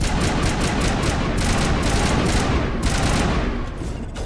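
Rapid gunfire and explosive bursts fill a busy Mass Effect Legendary Edition firefight, including high explosive grenade launcher fire, loud and continuous with dense repeated impacts throughout.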